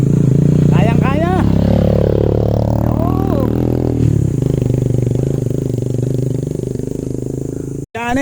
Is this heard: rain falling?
no